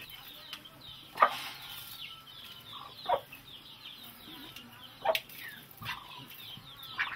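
Chickens in a Madagascar village cluck in scattered short bursts, a few sharp calls standing out over a quiet outdoor backdrop of faint chirps.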